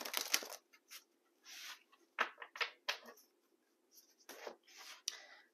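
Soft papery shuffling and riffling of a Tattoo Tarot deck in short bursts with brief pauses, close by and fairly quiet, no voices.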